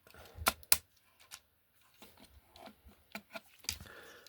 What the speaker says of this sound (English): So that will just click into place here.